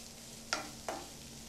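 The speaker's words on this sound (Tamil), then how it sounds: "ஏற்கனவே குக் பண்ண ஐட்டம் தான் அதனால் லைட்டாக வதக்கினா போதும்" Already-cooked corn being lightly sautéed in a pan for paneer corn bonda, two short scraping stirs over a quiet background hum, close but faint.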